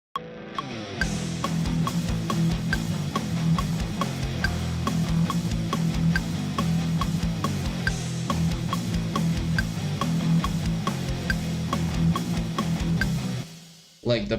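Music played with one side slightly delayed and out of sync, a steady beat with smeared, doubled hits running continuously for about thirteen seconds before cutting off.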